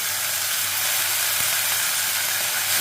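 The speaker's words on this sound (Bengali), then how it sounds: "এবার এখানে ধুয়ে রাখা পুঁই শাকটা দিয়ে দেবো।" Washed Malabar spinach (pui shak) dropped into vegetables frying in a pan, giving a steady broadband sizzle with a brief soft thump midway, close and continuous with no talking.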